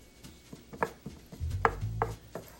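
Mushrooms and chopped jalapenos in a skillet with butter and olive oil are pushed around with a utensil, producing a series of close, rhythmic taps and scrapes over a soft sizzle.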